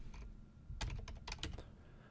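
Keys clatter on a computer keyboard as code is typed, a quick burst of several close, crisp clicks after a quiet start, then a few more taps fading out.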